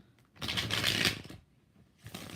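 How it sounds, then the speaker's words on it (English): A close, brisk riffle of tarot cards being shuffled, one long burst followed by a pause and the start of another. "Three more shuffles."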